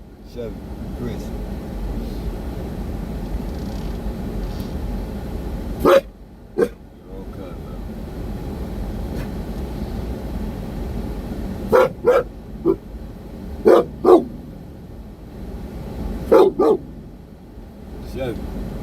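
Dogs indoors bark in short scattered bursts, single barks then tight pairs and triplets, fairly close over a steady low background hum.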